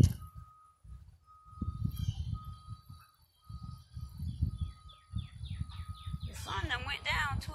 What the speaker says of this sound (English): I love the sound of the outside, especially the birds.